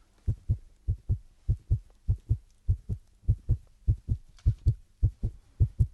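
Soft, regular double thumps in a steady lub-dub rhythm imitate a heartbeat, made by a stretched T-shirt, repeating evenly with nothing else around them.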